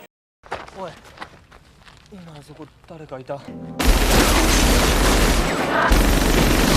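A homemade bomb goes off in a film, destroying a base. A sudden loud blast follows a stretch of talking and sustains a dense roar to the end.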